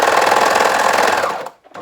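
Overlocker stitching a few stitches on fabric without cutting: a close, loud, fast whirring run of about one and a half seconds that winds down and stops.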